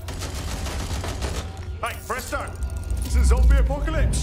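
Rapid video-game gunfire from shooting enemies in Watch Dogs Legion, bursts of shots layered under constant excited speech and game sounds, heavier firing toward the end.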